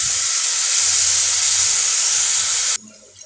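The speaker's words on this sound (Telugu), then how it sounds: "పాలకూర వేసిన తర్వాత ఒకసారి ఇలా కలిపేసి ఇది దగ్గర పడే వరకు కొద్దిగా ఉడికించుకోవాలి" Spinach for palak paratha cooking in a pan gives off a loud, steady hissing sizzle that cuts off abruptly near the end, leaving only faint background.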